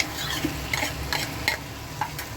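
Goat brain (magaz) stirred into sizzling masala in a frying pan: a steady, close frying hiss with repeated scraping stirs, and no talking.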